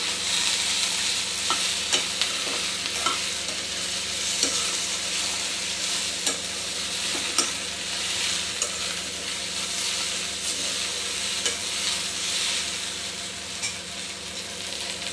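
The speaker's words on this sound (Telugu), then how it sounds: "బెండకాయలు ఇలా కొద్దిసేపు ఒట్టివే ఇలా వేయించుకోవాలి" Okra frying dry in a pan, a continuous bright sizzle punctuated by regular light spatula taps and stirs, close up and steady throughout, no speech.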